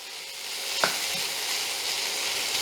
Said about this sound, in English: I'll fry it well and then cover it and cook it for another 3 minutes.